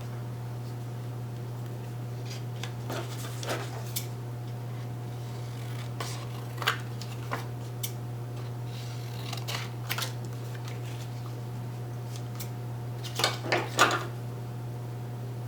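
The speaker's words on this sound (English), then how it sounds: "Need some bigger scissors to kind of get a good feel for where I need to trim that" Scattered sharp snips and clicks of scissors trimming paper, a few in quick clusters, sound close by over a steady low electrical hum, with no talking.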